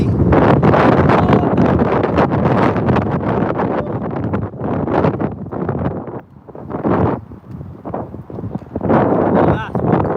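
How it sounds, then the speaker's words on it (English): Strong wind buffeting a microphone in loud, gusty rumbling bursts that rise and fall irregularly. "Oh, that's one cool wind."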